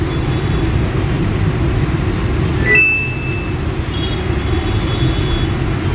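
A Samsung top-load washing machine on its spin cycle, the motor turning with a steady low rumbling whir throughout, and a brief thin squeal rising midway before the drone carries on unchanged.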